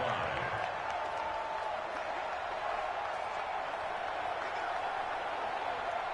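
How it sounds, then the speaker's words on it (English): A stadium crowd cheers and roars in an American football video game, a steady broad wash of noise at moderate level that holds throughout with no breaks. "the crowd getting into it as we come up on a big 3rd down"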